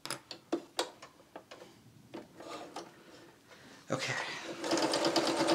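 Sewing machine stitching a clown bodysuit during a live sewing session; a run of short clicks and mechanical taps gives way to a louder, steady whirring stitch run, and a voice speaks briefly.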